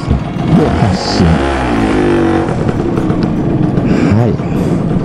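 A Honda NS-1 two-stroke motorcycle pulls away in first gear, its engine revving up and down nearby while someone talks over it.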